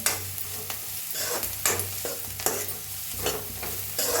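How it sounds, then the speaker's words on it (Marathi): Ground garlic, green chili and coconut sizzle in hot oil with onion as a spoon stirs them repeatedly, producing close scraping strokes over a steady frying hiss. "लसूण हिरवी मिरची खोबरं आपण वाटून घेतलं होतं ते भाजून घेऊया छान असं तेलात"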